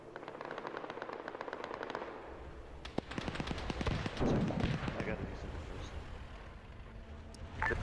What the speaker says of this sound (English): No, sorry, it's a machine gun shot.